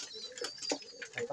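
Pigeons feeding nearby give soft, short cooing calls, several brief coos in quick succession over a quiet background.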